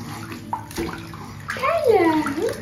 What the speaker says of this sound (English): Are you splashing in the bath?